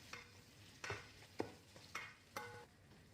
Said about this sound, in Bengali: এবার 2 মিনিটের মতো আমি জাস্ট একটু পেঁয়াজ আর মরিচগুলো তেলে আমি মিডিয়াম